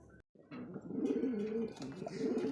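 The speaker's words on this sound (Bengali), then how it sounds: "আরও একজোড়া লাইট কালারের মধ্যে রেসার কবুতর দেখেন ডানেরটা হচ্ছে নর আর বামেরটা হচ্ছে মাদি দেখছেন অস্থির কিন্তু ভাই এত সুন্দর ডাকতেছে" A pair of light-coloured racer pigeons, one male and one female, coo in soft, rolling, throaty phrases nearby, repeating without a break after a brief pause at the start.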